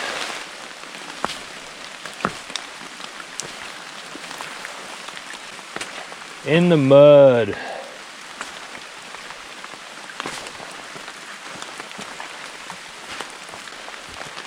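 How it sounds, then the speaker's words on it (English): Steady rain patters throughout, a dense hiss of drops on surfaces, with a brief spoken phrase near the middle. "Yeah, it's raining now."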